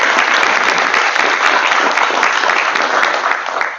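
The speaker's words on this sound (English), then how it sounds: "So I want to give them a round of applause." Sustained applause from a crowd at a school board of education meeting, steady and full throughout, tapering slightly at the end.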